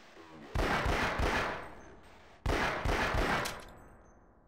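Gunfire in the video game Half-Life: two loud bursts of rapid shots, each about a second long, separated by a short pause, with no talk.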